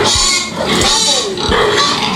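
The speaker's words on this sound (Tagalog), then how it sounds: "Kanelia, ano po ba itong mga alaga natin baboy na napakalimutin?" Pigs on a farm, including a sow with many piglets, grunt and snort loudly and close by in a dense, continuous jumble of overlapping calls.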